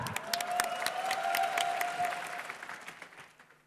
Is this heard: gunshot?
no